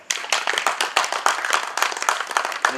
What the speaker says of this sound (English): why won't we give them both a round of applause?